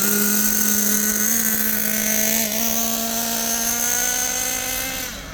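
A Kyosho USA-1 nitro RC truck's small engine screams at high, steady revs, loud and close throughout, with a slight dip in pitch midway and a fade at the end.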